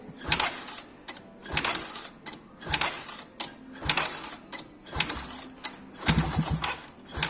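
A motorcycle being repaired has its starter cranked in rapid rhythmic bursts, the whirring cycles repeating about every half second without the engine catching, loud and close with no talk.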